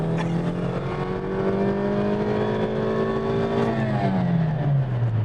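Chevrolet Cobalt LS pulling hard in second gear from 2000 rpm, its engine note climbing steadily for several seconds before the revs drop off at the shift, loud and continuous from inside the car.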